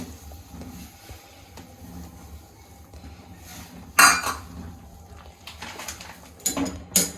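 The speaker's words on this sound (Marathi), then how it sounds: "तर मी अशी तांदळाची पिठी ॲड करून घेत आहे आणि याला असं हलवत हलवत राहायचे आपल्याला" Rice flour is stirred into boiling water in a pot to make modak dough. Soft scraping and metal clinks sound throughout, with a few louder clanks of the utensil against the pot near the end.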